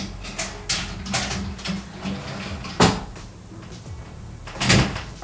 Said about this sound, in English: So now you can actually put this into the drawer.